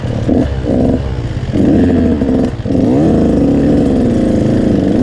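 An enduro motorcycle engine in first gear revs loudly and close, its pitch rising and falling in surges as the throttle opens and eases.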